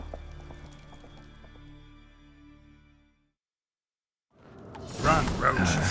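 Hoofbeats of a horse galloping in The Witcher 3 come mixed with other game sounds for about three seconds, then a brief silence, then a loud burst of noise.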